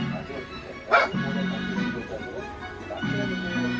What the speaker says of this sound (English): We got a barking dog in the background.